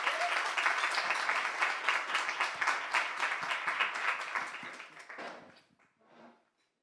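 Audience applause welcoming a speaker to the podium at a community program event: a dense, steady wash of many hands clapping that fades out over the last second or two, with no one talking.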